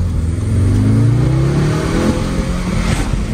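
A tuned 2024 Audi S3 with an aftermarket tune accelerating under throttle, its engine note rising steadily in pitch from inside the cabin, then easing off with a muffled rumble.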